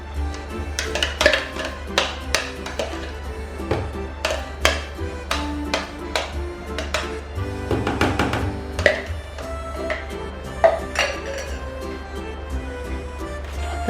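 A metal spoon stirs and scrapes yeast into pizza dough ingredients in a bowl, clinking irregularly against the sides with ringing taps, over a low steady hum.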